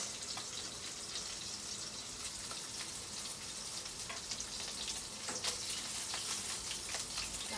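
Cooking oil heats in a pan for pancit bihon, giving a steady, close crackling sizzle with faint scattered pops throughout and no talking.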